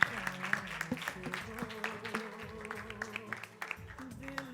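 A crowd claps at an awards moment, with scattered, fairly faint claps over a steady background murmur and musical tones.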